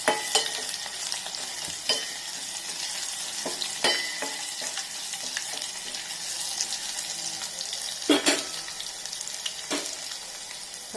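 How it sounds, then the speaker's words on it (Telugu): Garlic, then curry leaves, frying in a pan for brinjal chutney, a steady soft sizzle with occasional clinks and stirring scrapes of a utensil throughout. "దీంట్లో వెల్లుల్లి, నల్లగొట్టిన వెల్లుల్లి వేసుకున్నాం. కొంచెం వేగిన తర్వాత"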